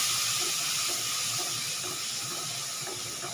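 Paste of ginger, raw green chilli and tomato hits hot oil in a pan and sizzles steadily, a loud, even hiss that holds for the whole stretch with no voices.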